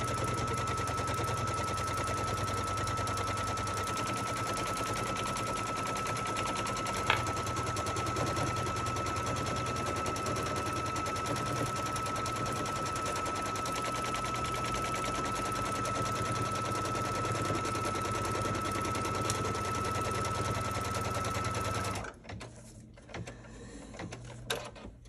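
A sewing machine stitches pieced fabric for a quilted pillow block in one long, fast, continuous buzzing run, steady and close, before stopping abruptly near the end, leaving a few faint handling sounds.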